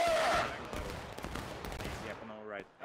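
Musket volley fire in the Civil War game War of Rights at Bloody Lane, a dense crackling burst of many shots with echoing reports under shouted commands from players.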